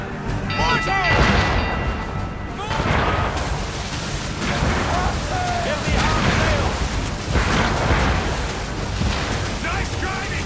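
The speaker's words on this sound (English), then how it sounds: "Mortar!" Mortar and cannon blasts boom during a naval battle in Assassin's Creed III, heavy rumbling impacts repeating over roaring wind and sea noise, with crew voices shouting throughout.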